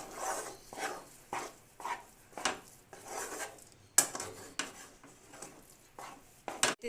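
A spoon scrapes gram flour laddu mixture around a pan, moistened with a little water, in repeated rhythmic strokes about twice a second, with a few sharper metallic knocks against the pan, close and moderately quiet.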